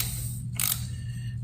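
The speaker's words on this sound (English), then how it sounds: "Get your 17, we're gonna tighten the oil filter down." A ratchet wrench with a 17 mm socket on an extension tightens the oil filter on a 2008-2016 Honda CBR1000RR, giving a couple of short clicking bursts over a steady low hum.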